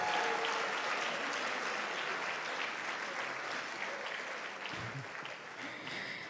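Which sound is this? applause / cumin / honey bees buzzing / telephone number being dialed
applause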